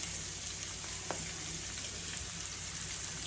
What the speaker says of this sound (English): Nice, good sizzle.